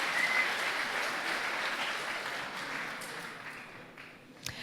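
An audience at a French talk on ecological transition applauds, a dense wash of clapping that holds steady and slowly fades, with a single sharp clap near the end.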